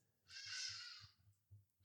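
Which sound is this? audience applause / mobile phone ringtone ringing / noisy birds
noisy birds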